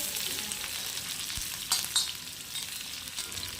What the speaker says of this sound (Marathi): दोन ते तीन मिनटांसाठी मोठ्या फ्लेमवरती छान अशी मिरची आपण परतून घ्यायची आहे